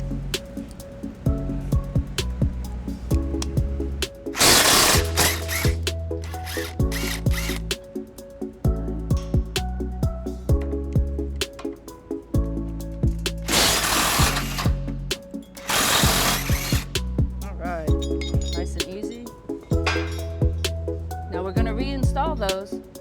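A power tool whirs in repeated bursts as it removes an existing bolt from a 2016 Toyota Tundra during a front mount hitch installation. The loud, close buzzing comes in several spurts separated by short pauses and clicks.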